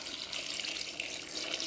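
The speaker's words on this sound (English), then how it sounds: "So what we're going to do is pour as much water as we can" Water pours steadily into a crock over apple scraps, a continuous close splashing hiss that stays level with no pauses or talk.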